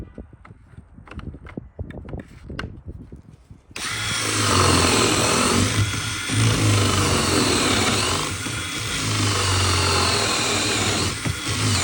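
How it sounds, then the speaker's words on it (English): A power drill bores a hole in a clamped wooden cabinet door for a concealed hinge. Quiet handling knocks come first, then a loud, steady whine with slight dips in load as the bit cuts. "we could go ahead and screw this on here and drill our hole."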